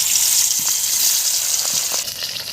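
A hilsa fish head fries in hot oil for a Bengali dish with taro greens, giving a loud, steady, close sizzle throughout, dotted with a few small pops.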